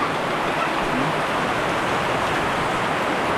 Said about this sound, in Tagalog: Kanina pa lang naman yung ulan.